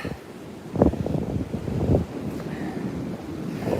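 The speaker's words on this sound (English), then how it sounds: "Those waves are not too bad either." Ocean waves wash onto a beach under gusting wind that buffets the microphone, giving a rough, rumbling swell that rises and falls in a few surges.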